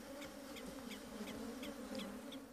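Swarm of attacking South American killer bees, a steady dense buzzing drone with faint higher tones, close and continuous.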